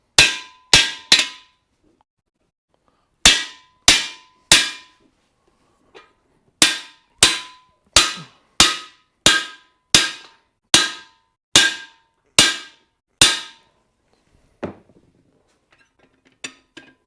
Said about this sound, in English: And then we figure out what we're doing with the hammer.